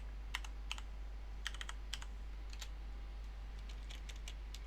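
Typing on a computer keyboard, a quick irregular patter of light, crisp keystrokes in short bursts over a low steady hum.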